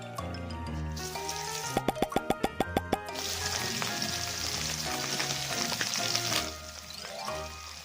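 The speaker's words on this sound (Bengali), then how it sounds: "মাছটা নুন হলুদ মিশিয়ে কড়াতে তেল গরম করে মাছটা ভাজতে বসিয়ে দিয়েছি" Fish rubbed with salt and turmeric frying in hot oil in a wok, a steady sizzle with a short burst of sharp rhythmic clicks early on and louder bubbling spatter toward the end.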